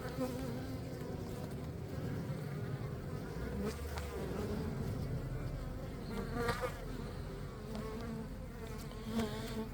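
Honeybees swarming around a hive entrance in the morning, a dense, steady buzzing hum with individual bees passing close, faint and continuous without talk.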